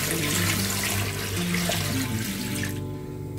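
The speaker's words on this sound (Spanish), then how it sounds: "Y ahora pues le vamos echando agua, agua fría" Cold water runs into a cooking pot for an Andalusian puchero stew, a steady close gushing pour that holds for about three seconds before stopping, with no talk.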